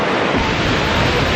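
Huka Falls waterfall roaring steadily, a loud, dense wash of falling water filling the whole span without a break.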